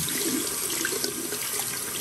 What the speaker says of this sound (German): spült ihr sie erstmal ganz normal mit etwas warmem Wasser ab